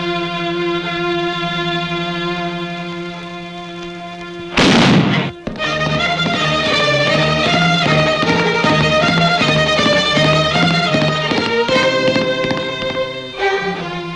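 Gunshots in a staged pistol duel: a sharp blast near the middle cuts through a steady musical score that plays throughout, with a smaller crack following later, and no talking.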